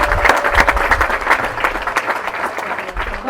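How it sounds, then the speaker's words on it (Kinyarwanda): A gathering applauds during a talk on Saint Thérèse of the Child Jesus, with steady, fairly close clapping from many hands that keeps an even pace the whole time. "Nimwamuha amashyi."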